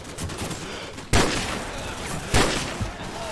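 Two sharp, loud DMR rifle shots in Call of Duty 4 multiplayer, spaced about a second apart, each followed by a short ringing tail over faint in-game background noise.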